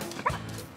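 A single short bark from a female search-and-rescue dog trained by firefighters, a brief yip heard once at moderate distance with faint background noise.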